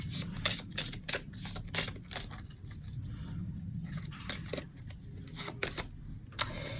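A deck of tarot cards being shuffled by hand, a series of quick crisp riffles and flicks in uneven bursts with short pauses, close and fairly loud against a faint low background hum, with no talking.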